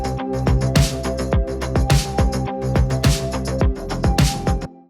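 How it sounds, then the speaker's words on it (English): Layered basses joined by a palm-muted electric guitar preset, the electric sunburst straightforward muted sound, chugging in a tight rhythmic pattern over a driving beat, loud and steady before cutting off, no talking. "I also added in a palm muted guitar"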